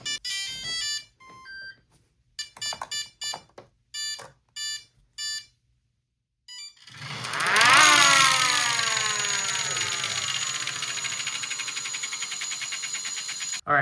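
A homemade air raid siren first gives a run of broken electronic beeps with gaps, then spins up into a loud, sustained rising wail that holds at a steady pitch close by, with no talking.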